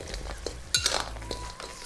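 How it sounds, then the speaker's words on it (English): Cornstarch slurry goes into ginger and scallion crab in a wok while a utensil stirs gently, giving soft scraping and wet stirring with a couple of sharper metallic clinks over a faint sizzle. "Then we'll add in our slurry while gently stirring."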